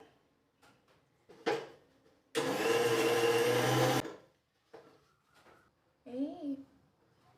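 A kitchen mixer grinder whirs loudly for about two seconds, grinding peeled garlic with a little water, as one steady burst; a person talks before and after it.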